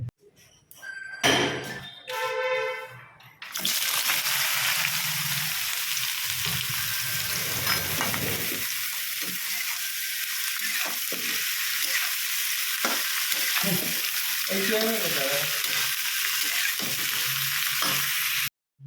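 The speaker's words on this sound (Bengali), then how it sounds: "তো ওদিকে পটল আলুটা ভাজা বসিয়ে দিলাম, দিয়ে একদম ঢাকা দিয়ে কম আঁচে বসিয়ে দিলাম।" Pointed gourd and potato frying on low heat in a covered pan, a constant loud sizzle that begins after a few clattering thumps and utensil knocks, with occasional stirring scrapes and clinks over it.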